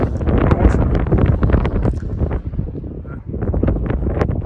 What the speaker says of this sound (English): probably still tell it's still very windy